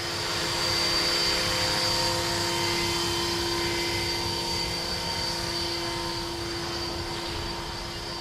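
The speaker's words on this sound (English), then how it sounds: "Most of the noise you hear is from the gear train." A Blade 330S RC helicopter with a three-bladed head and straight-cut gears whines steadily in flight, its gear train giving a sustained high-pitched tone over a broad rotor hum, moderately close with no talk.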